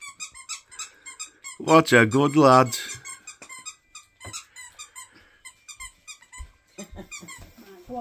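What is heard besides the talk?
dog squeaking a squeaky teddy toy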